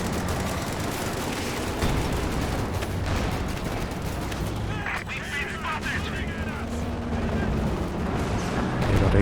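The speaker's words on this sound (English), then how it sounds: "dodging these Calliope barrages" Calliope rocket artillery barrages in a Company of Heroes 2 online 2v2 match: a steady roar of overlapping explosions and booms, while a commentator talks over it.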